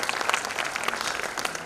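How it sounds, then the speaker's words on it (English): Audience applause after a stage performance, a dense steady wash of many hands clapping close by, continuous and moderately loud with no voices over it. "A round of applause for the entire management"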